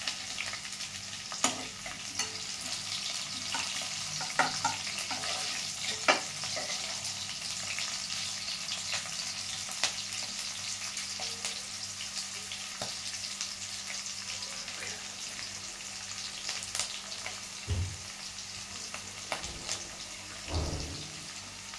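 Onion, garlic and green chilli fry in a pan with a steady, close hiss of sizzling oil, broken by brief stirring scrapes and a few low knocks near the end.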